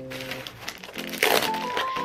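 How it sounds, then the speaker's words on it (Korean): Crinkling of 3D puffy stickers with filling, a loose rustle that grows into a louder crackly crunch partway through, close to the microphone amid faint background tones. "이게 소리가 왜 나는 거냐면은 스티커 중에 그 튀어나와 있는 입체 스티커들 있잖아요. 거기 안에 뭐 이렇게 들어있는 거."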